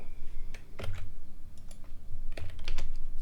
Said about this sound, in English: if I type in this thing, if I type in this, right?